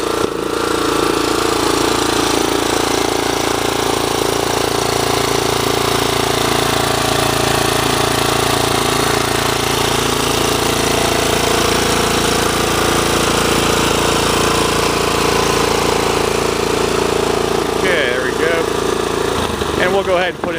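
A Cub Cadet CC 760 ES lawn tractor engine runs loud and close at a steady, rough, rattling high speed, holding constant for about twenty seconds with a faint shift near the end.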